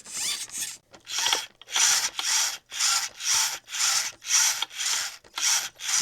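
New all-metal-gear servo on an Arrma Granite V4 driven back and forth in about ten rapid bursts. Each burst is a harsh, grinding whir separated by short gaps. It sounds louder and rougher than a plastic-gear servo.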